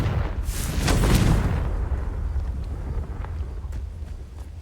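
A Confringo blasting spell in Hogwarts Legacy lands as a deep, rumbling explosion that swells for about a second, then fades into a long, breathy tail.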